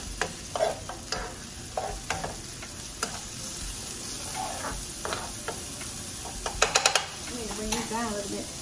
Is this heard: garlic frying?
yes